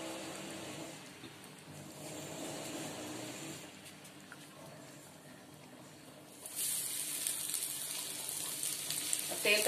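Semolina-coated Bombay duck fish laid on a hot griddle in a Malvani home kitchen, a faint low sizzle that swells into a louder hissing fry partway through.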